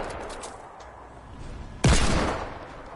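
Gunfire in the video game Fortnite: after a quiet stretch, a sudden loud burst of shots erupts near the middle and carries on as a sustained rattle to the end.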